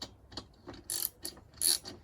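Bolt tightened with a ratchet, a close series of short clicking bursts in an uneven rhythm, some louder and sharper than others, with no talk.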